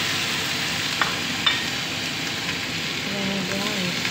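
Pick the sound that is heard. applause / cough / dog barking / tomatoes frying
tomatoes frying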